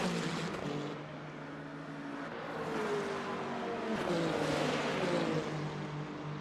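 Race cars in the sim racing game Le Mans Ultimate braking into the first chicane at turn 1, a steady layered engine drone with pitch sweeps as several cars pass, continuous and fairly loud throughout.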